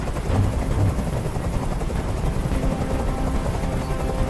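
A helicopter in the Detroit: Become Human video game drones steadily with a close, continuous rotor thrum, loud and unbroken throughout.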